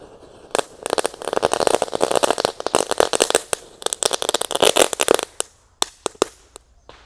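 Three purple disco firecrackers set off together in the ground burst into a dense, rapid crackle of sharp pops for about five seconds, then thin out into a few scattered loud cracks near the end.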